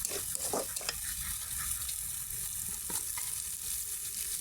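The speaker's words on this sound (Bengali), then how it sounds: "অনবরত নেড়ে যেতে হবে যেন কোনোভাবে পোড়া না লেগে যায়।" Haleem is stirred continuously in a pot with ground coriander and spices, a steady close sizzle and bubbling broken by irregular scrapes of the spoon against the pot.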